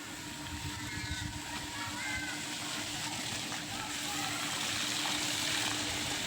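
Water runs steadily in a boat-shaped garden water feature built for children to play in, a continuous splashing flow close by with faint background noise throughout.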